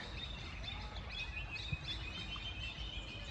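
Birds chirp and twitter faintly near a river over a steady outdoor wash of ambient noise, like flowing water in the background.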